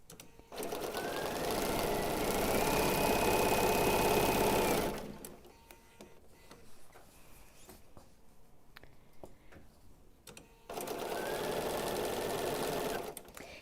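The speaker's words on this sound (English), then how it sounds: "having this sewing machine from Bernina" A Bernina sewing machine stitches in a fast, steady whir for several seconds, stops for a quiet pause with small handling sounds, then starts stitching again.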